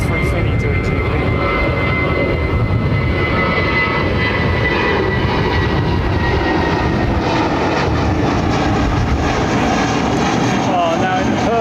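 A JAL Airbus A350 airliner roars loudly and steadily near London Heathrow, a broad sustained jet rumble that swells slightly over its length, with someone talking over it.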